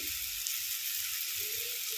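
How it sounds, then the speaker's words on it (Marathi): Mustard and cumin seeds spluttering in hot oil in a kadhai, a steady, bright crackling sizzle with faint pops, heard close up and without voices. "थोडंसं म्हणजे जिरे मोहरी तडतडण्यापुरतं"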